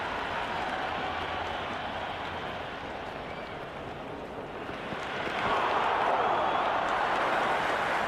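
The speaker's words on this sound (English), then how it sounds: "The crowd is electric right now." A stadium crowd roars and applauds in the cricket video game Cricket 26 during a T10 match, a dense, wide wash of cheering that holds steady, then swells louder near the end. Commentary runs over the top.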